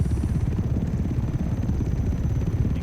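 Rotor-driven engine drone of a Dune ornithopter in Microsoft Flight Simulator as its landing gear actuates, a steady, loud, buzzing whir with pulsing low thump, continuous and without talk.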